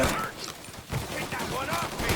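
Bursts of rapid gunfire from a shootout in the video game Mafia Definitive Edition, crackling in quick volleys at moderate level, with shouted voices mixed in.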